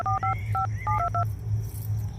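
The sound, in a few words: dialing a phone number to make a call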